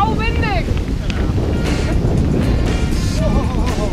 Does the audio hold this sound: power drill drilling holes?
no